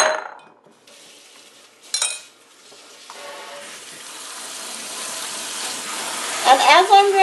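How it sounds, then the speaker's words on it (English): Tap water runs steadily over spaghetti squash in a strainer in a home kitchen, a continuous broadband rush with a brief splash near the start and a clatter of handling toward the end. "I'm going to take my spaghetti squash and put it in the strainer. And I'm going to rinse it."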